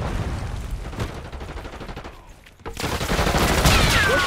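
Dense automatic gunfire and bursts of fire from a Call of Duty 6 battle, loud and continuous, with a brief lull before the shooting swells again amid explosions.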